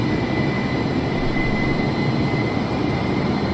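Steady broadband roar of an Airbus A320neo jet climbing in a flight simulator game, a constant loud engine drone with a faint high whine, no talking.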